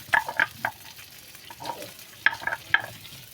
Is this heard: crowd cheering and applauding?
no